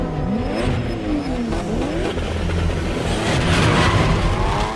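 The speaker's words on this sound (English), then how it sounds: "The final street race between Sean and Takashi in the Fast and the Furious Tokyo Drift." Street-race cars from the Tokyo Drift film scene roar loudly, engines revving and rising in pitch as several vehicles sweep past, with tires squealing throughout.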